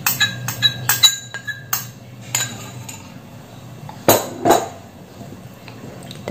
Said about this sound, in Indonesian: Kita aduk-aduk dulu seperti ini.